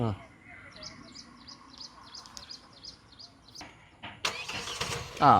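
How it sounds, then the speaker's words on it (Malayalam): A Toyota car's engine starts by remote start, with a brief mechanical crank and a rising engine burst near the end, while birds chirp steadily in the background and a person speaks. "റിമോട്ട് ഓൺ സ്റ്റാർട്ട് ആകുന്നത്, ഇത് ഓണാക്കിയത് നല്ല ഫീച്ചറാണ്."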